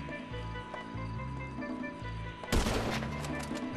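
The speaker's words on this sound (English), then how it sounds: "And they're like all shooting at me." Bursts of automatic gunfire from enemies in GTA V on Xbox One, a rapid rattle of shots that swells into a louder, denser volley near the end, with a player's voice faintly underneath.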